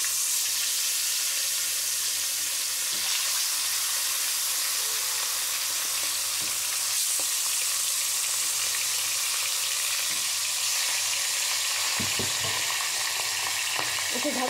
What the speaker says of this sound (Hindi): फिश को फ्राई करने से पहले तेल में नमक डाल देंगे ताकि फिश नीचे लगे ना। अब फिश को डाल देंगे एक एक करके।